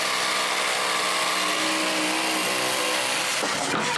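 Jigsaw cutting floorboards during a cottage floor replacement, a steady buzzing rasp running continuously and close up, with a brief shift near the end.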